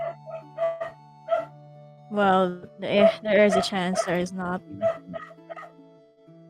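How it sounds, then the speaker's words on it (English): Dogs bark in short bursts in the background, while a voice talks over and between them. "sorry that dogs are barking"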